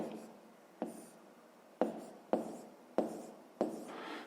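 Pen writing on paper during a fifth-grade maths exercise, a series of sharp taps and short scratching strokes, about six distinct marks, close and quiet with no talking.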